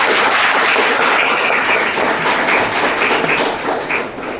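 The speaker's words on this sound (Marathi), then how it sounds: "तुम्हा सर्वांच्या स्वागतासाठी लेट पण थेट जोरदार टाळ्या मारू बरं एकदा" A college hall audience claps dense, sustained applause to welcome journalists at a Journalists' Day event, loud and close before tapering slightly at the end.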